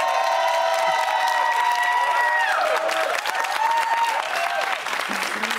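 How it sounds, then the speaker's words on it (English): Studio audience on a Big Brother companion panel show bursts into sustained applause mixed with loud cheering and whoops, filling the room continuously at close range. "Give him a round of applause."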